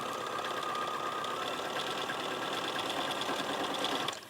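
A sewing machine stitches a quilt with a continuous, close, steady mechanical whir and rapid needle chatter that runs for about four seconds and then stops abruptly.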